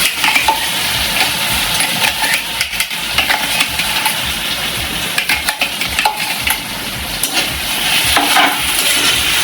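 Potatoes and green chilies frying loudly in a pan, a dense continuous sizzle and crackle with occasional stirring scrapes, close and steady throughout with no talking.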